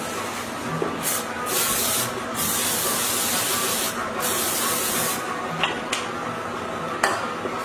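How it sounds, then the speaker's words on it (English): A steady hissing oil spray coats a baking sheet, running continuously, broken by a few short louder bursts and faint clinks of metal. "Do a little bit of oil spray on it."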